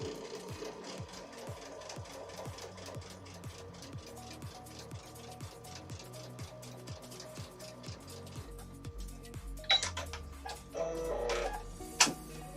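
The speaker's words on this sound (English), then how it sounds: "And then I'm going to sew on the line." A sewing machine runs a straight seam at a short 1.4 stitch length while making a T-shirt table runner. It gives a steady, fast mechanical clatter that continues alone and close, with a few louder knocks near the end.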